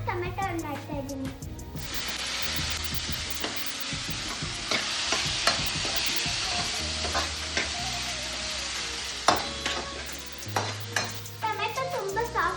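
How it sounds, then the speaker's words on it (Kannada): Carrot and tomato stir-fry in a pan with constant sizzling and repeated scraping and clinks of a spatula, close and loud, with brief speech in between. "ನೆಕ್ಸ್ಟ್ ನಾನು ಕ್ಯಾರೆಟ್ ಹಾಕ್ತಿದ್ದೀನಿ. ಫ್ರೈ ಮಾಡ್ತಾ ಇದ್ದೀನಿ."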